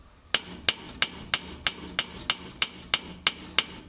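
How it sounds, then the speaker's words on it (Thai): A metal khaen reed is hammered flat, about a dozen sharp, evenly spaced strikes ringing out close and clear with no talk. "เมื่อได้แล้วเราก็มาตีให้แบนอีกครั้งนึงนะครับ"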